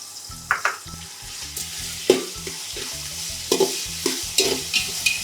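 A large batch of onions, about one and a half kilos with salt, frying for chicken dum biryani, with a spatula clattering and scraping the pot in quick, uneven strokes over a low, constant sizzle.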